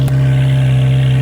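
A Ferrari 430 Scuderia fitted with an Agency Power titanium rear exhaust section holds a loud, steady, deep engine drone throughout, close up and without talk.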